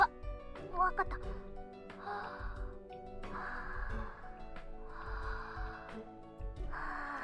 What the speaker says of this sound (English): I could hear her breathing in and out